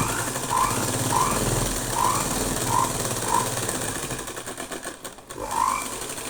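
A sewing machine stitches blouse fabric, giving a close, steady motor drone with a rhythmic mechanical chatter. It dips and falters briefly near the end before running again, with no voices.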